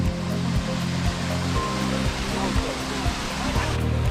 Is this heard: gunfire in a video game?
no